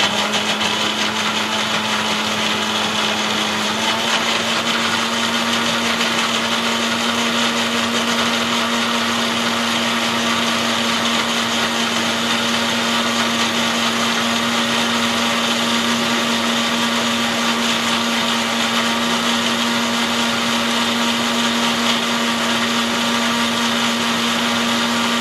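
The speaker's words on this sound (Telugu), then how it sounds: "నున్నగా మిక్సీ పట్టి పెట్టుకున్నాం" Mixer grinder blending coconut pieces with two cups of milk into a smooth mix, a loud continuous motor whine that holds steady with a slight shift in pitch early on, with no talking.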